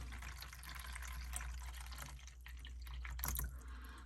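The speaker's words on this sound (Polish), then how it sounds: "wodę wlewam tak jedną czwartą tutaj do, tej, do tego pojemnika" Water poured into a container holding celery seedlings makes a faint, close trickle and drip over low background hum, with a brief louder splash near the end.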